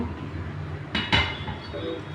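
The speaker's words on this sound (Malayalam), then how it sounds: "ഞാനതിന് സ്റ്റൗ കത്തിച്ചിട്ട് ചട്ടി വെക്കുന്നു." A metal pan lands on a kitchen stove with two quick clanks close by, the second louder, against a quiet room hum.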